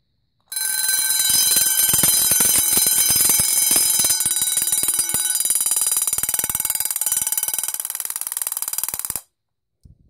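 A Vulcan Autosonic Mk. 30-A mechanical heat detector alarm rings loud and steady for about nine seconds, a continuous bright metallic bell clatter with a sharp start and abrupt stop.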